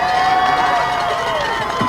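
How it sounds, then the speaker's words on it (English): A stadium crowd at a Vineland High School senior night football game cheers and claps, a steady broad roar with scattered shouts and whoops, loud and sustained throughout. "let's clap it up for the seniors at Vineland High School"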